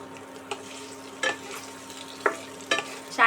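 Sliced ridge gourd, three large and four medium, stirred in about a tablespoon of ghee in a pan; a few short scraping, sizzling bursts of stirring break a quiet, low background.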